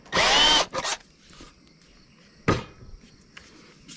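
Power drill driving a T-bit into board end grain while mounting threaded tenons, a loud short whine burst at the start, a brief second pulse, then another quick burst after a pause.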